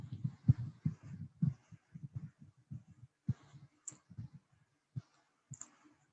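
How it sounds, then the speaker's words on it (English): Keyboard typing in a classroom setting: scattered, irregular soft clicks and taps of keys at close range, quiet overall with short pauses between bursts. "keep typing"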